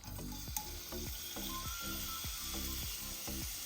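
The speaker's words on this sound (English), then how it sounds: "I'm going to go ahead and add the shrimp to the pan." Shrimp sizzle steadily in a hot pan in a shrimp and okra dish, with a constant frying hiss and a few faint rhythmic clicks underneath and no talking.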